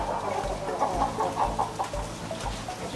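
Chickens cluck steadily in a poultry house with a plastic slatted floor, a dense overlapping chorus of hens at moderate volume throughout, with no speech.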